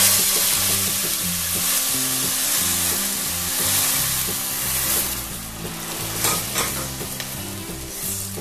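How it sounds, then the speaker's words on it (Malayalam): Coconut milk poured into a pan of ghee rice raises a loud, dense sizzle with bubbling and stirring scrapes, continuous and close, with no talking. "ഇതിപ്പോ 1 ഗ്ലാസ് അരിക്ക് 2 ഗ്ലാസ് തേങ്ങാപ്പാലാണ് ഞാൻ ഒഴിക്കുന്നത്"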